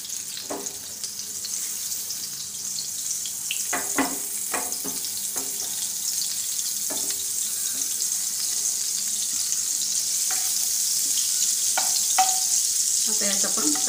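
Butter melting in a hot pan gives a steady, fairly loud sizzle throughout, with a few soft clicks of a utensil against the pan.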